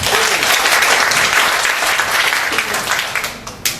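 An audience claps loudly and steadily, a dense round of applause that fades slightly toward the end with a few last claps.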